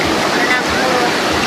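A waterfall pouring into a pool, a steady loud broadband rush close by, with a person talking over the roar.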